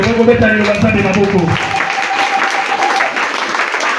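A church congregation breaks into loud, sustained applause and clapping during a French-language Bible teaching, the clapping filling the room after a preacher's brief voice at the start.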